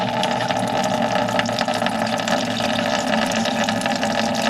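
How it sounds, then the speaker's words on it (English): Engine coolant drains steadily after a wing nut is loosened during prep for new head gaskets, a continuous loud hiss and rush with a motor-like hum that holds evenly throughout. "it'll take a little while to drain everything out of here"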